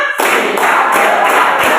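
A classroom group claps hands in a steady rhythm, continuous bright broadband clapping close by and loud for nearly two seconds after a brief quiet start, with no talking.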